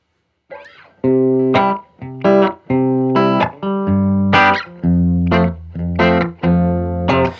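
Electric guitar through a delay pedal with room reverb switched on, a sequence of picked notes and chords that ring into one another with a thicker, fuller tone and a slight ambient tail.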